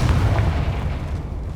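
A deep, booming blast from the Confringo fire spell in Hogwarts Legacy on PS5 hits loud at the start and rumbles away over the next second and a half, with no talking.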